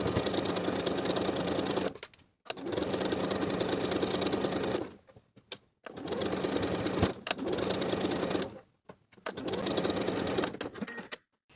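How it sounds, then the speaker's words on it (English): A sewing machine edge stitching a hem runs in four long steady bursts of rapid whirring stitches, each separated by a brief pause, loud and close. "Then I'm going to edge stitch close to the inner edge all the way around to complete the hem"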